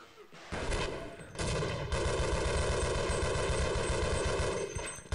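Sustained automatic gunfire in Half-Life 1, a loud dense stream of rapid shots kicking in after a brief quieter moment and continuing steadily to the end, with no voices over it.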